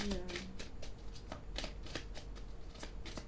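Oracle cards are shuffled by hand in a quick, crisp series of riffling flicks repeating rhythmically throughout, close and fairly quiet, with faint talk underneath.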